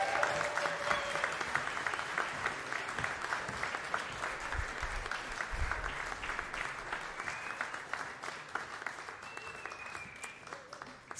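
An audience applauds new members called forward at a church gathering, continuous moderate clapping throughout, with a few whoops in the mix.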